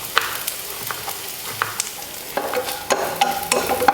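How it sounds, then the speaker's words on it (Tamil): Bitter gourd pieces being sautéed in a pan, with scattered spoon taps and scrapes at first, then a thicker sizzle and stirring toward the end. "பாவக்காயும் நல்லா வதங்கிடுச்சு."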